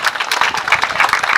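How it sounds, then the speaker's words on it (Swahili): Steady applause from an audience at a college graduation ceremony, dense overlapping clapping at a constant level throughout, with no clear voice above it. "Hebu wapigieni makofi tafadhali"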